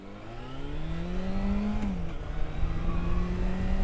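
Motorcycle engine accelerating toward 50 mph during a braking test, a rising whine of pitch climbing through the gears with one brief shift dip, close and steady, with no talk.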